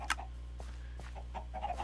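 Chicken clucking in Minecraft, a few short, soft clucks spaced irregularly over a steady low background hum, fairly faint and alone.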